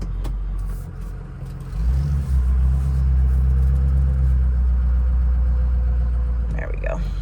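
A 2005 Ford F350 King Ranch pickup pulling forward: a loud, low engine drone that swells as it moves off and then holds steady, with some brief background sounds near the end.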